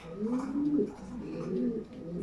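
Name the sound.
pigeon cooing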